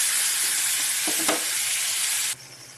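Pork sizzles loudly in a pan with garlic that has already browned. The hot frying hiss is steady and close. A couple of brief scraping stirs break in midway, and the sizzle then drops suddenly to a quieter simmer.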